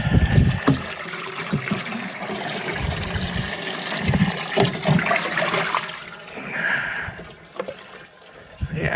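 Water splashing and gushing steadily as a strawberry patch in a home garden is watered, with a low rushing flow throughout and a brief hiss of spray near the end.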